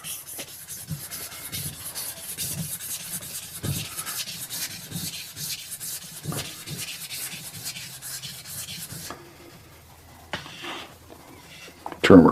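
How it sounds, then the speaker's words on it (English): Kawasaki engine crankshaft being sanded with a rope and 500-grit sandpaper, rapid rhythmic back-and-forth rubbing strokes up close, easing off near the end before a louder knock. "using the rope and some 500 grit, I'm going to sand the heck out of it"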